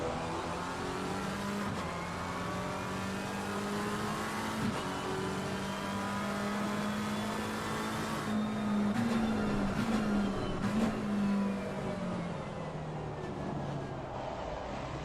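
Race car engines at Spa-Francorchamps in a racing broadcast, a steady drone of revving motors rising and falling in pitch as throttles are modulated, with occasional louder passes and tire noise.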